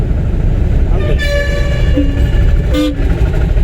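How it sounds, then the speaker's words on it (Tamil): A car horn sounds twice during a driving lesson, two short toots about a second apart over a loud, steady engine and road rumble inside the car. "ஹார்ன் அடிக்கணும், அமுத்துங்க, அமுத்துங்க"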